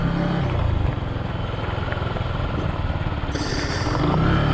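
Zontes G1 Scrambler ZT125-G1 motorcycle braking hard with ABS engaged, a loud continuous engine and road roar close by, with a brief rising whine near the end and no talking.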